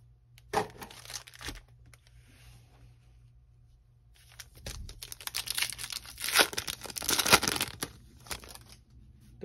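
2021 Bowman Chrome trading card packs are torn open up close, with sharp foil ripping and crinkling in short bursts, then a longer stretch of dense tearing and crumpling.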